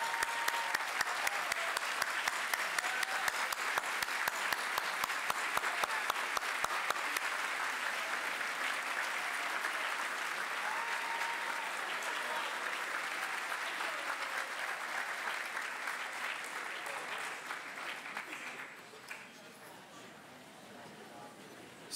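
A graduation ceremony audience gives a long round of applause, crisp and sustained, with a few sharp claps standing out early before it gradually thins and fades near the end.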